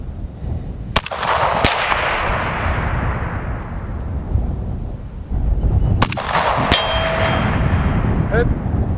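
An AK103K-S rifle fires at a shooting test, sending loud sharp reports spaced a few seconds apart, each trailing off in a long outdoor echo, with a metallic ring from struck steel targets.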